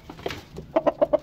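A hen clucks close by, a few soft sounds followed by four quick, evenly spaced clucks.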